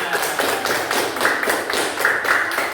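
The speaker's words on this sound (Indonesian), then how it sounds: "Tepuk tangan." Classroom of students clapping together on cue during an Islamic religious education lesson, a steady burst of fairly loud, dense hand claps lasting a few seconds with no speech over it.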